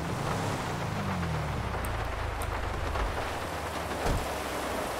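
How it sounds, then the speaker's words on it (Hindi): Heavy storm rain pours down steadily in GTA 5. A continuous loud roar of rain and wind is broken by a couple of low thunder rumbles, with no voices. "बारिश देख रहे हो तुम लोग, कितनी खतरनाक हो रही है भाई, तूफानी बारिश हो रही है"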